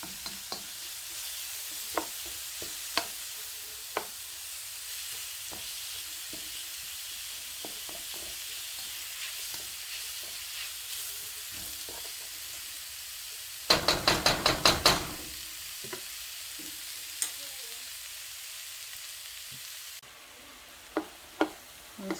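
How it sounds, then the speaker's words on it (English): Green onions fry in oil for chicken and veggie fried rice, a steady low sizzle broken by scattered utensil knocks and stirring clacks, with a brief burst of rapid scraping partway through, close and without speech. "Smells good. Those green onions cooking."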